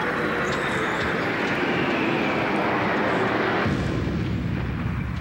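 An airplane crash sound effect plays in the music of a figure skating program, a steady loud roar of aircraft engine noise that shifts in tone near the end, with no voices.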